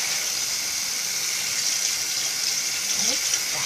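Tap water runs steadily into a sink while face cleanser is rinsed off, a constant even gush filling the whole stretch with no talking.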